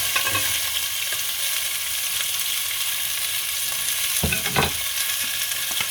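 Carrots, celery and onions sautéing in extra virgin olive oil over medium-high heat, a dense steady sizzle with a couple of brief stirring scrapes near the end, close and unbroken by speech.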